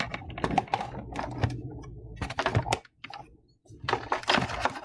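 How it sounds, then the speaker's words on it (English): Computer keyboard being typed on in quick bursts of close, crisp key clicks with brief pauses, ending in a final keystroke for Enter; no talking. "in the Find window, I'll type in Glassfish and hit Enter"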